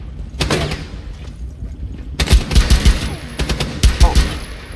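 Gunfire in the video game Rainbow Six Siege, closed beta: a short early volley, then repeated sharp bursts of rapid shots with heavy low thumps over the last couple of seconds, loud and close.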